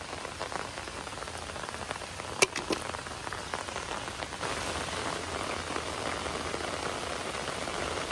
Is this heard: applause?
no